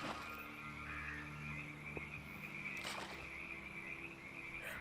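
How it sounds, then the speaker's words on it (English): Frogs croak steadily in the Skyrim VR game world, a continuous chorus of overlapping croaks with a brief sharper call partway through, no talking. "that we got frogs."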